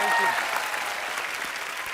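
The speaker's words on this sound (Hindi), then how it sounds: "जोरदार तालियां हो जाएं प्लीज।" Brief burst of studio audience applause on a Hindi comedy talk show welcoming guests, loud and dense from the start and holding steady, with a voice briefly over it.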